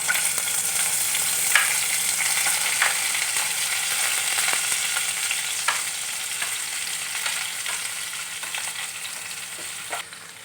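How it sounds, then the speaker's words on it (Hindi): Shredded cabbage, carrot, onion and capsicum stir-frying in a kadhai with ginger and garlic, giving a loud continuous sizzle broken by sharp scraping strokes of stirring every second or so, close up and without speech. "मैंने सारी सब्जियां बंद गोभी, गाजर, प्याज, सभी शिमला मिर्च सभी को मैंने कढ़ाई में डाल दी और इनको मिक्स कर लेते हैं।"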